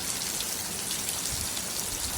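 Heavy rain falling, a dense, loud, continuous hiss of drops pattering on surfaces with no break and no voices.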